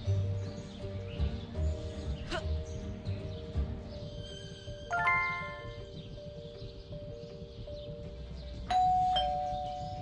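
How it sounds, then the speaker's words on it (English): A doorbell chimes inside the Scary Teacher video game, two separate electronic ding-dong rings about four seconds apart, clear over a steady layer of game music and background tones. "There goes that stupid bell again."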